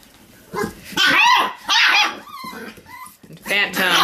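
Six-week-old Pomsky puppies give high yips and short barks in several loud bursts close by, mixed with adult voices talking throughout.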